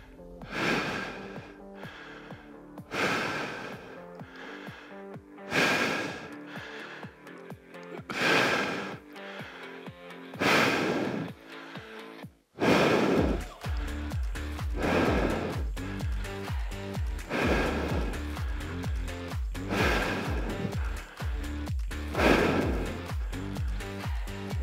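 Heavy rhythmic breathing during a wall sit strength exercise, loud close exhales and inhales repeating every couple of seconds, growing more labored and rapid in the second half.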